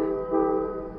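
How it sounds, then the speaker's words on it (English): A Lehigh Gorge Scenic Railway train sounds a sustained horn, loud and steady, as it arrives at Old Penn Haven. "That's the 3 o'clock Lehigh Gorge Scenic Railway coming into Old Penn Haven."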